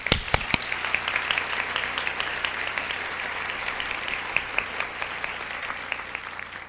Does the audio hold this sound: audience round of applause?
yes